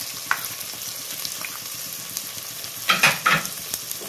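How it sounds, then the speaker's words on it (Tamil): Tomatoes sautéing in a pan while a Tamil dry fish curry is cooked, a steady close sizzle and fry with a few louder stirring scrapes near the end. "தக்காளியும் நல்லா வதங்கட்டும்."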